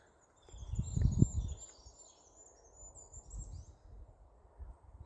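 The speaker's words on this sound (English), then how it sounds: "the birds, we can hear the birds." Faint birdsong with high chirps and trills in the background, over low rustling and wind-like rumble outdoors in woods.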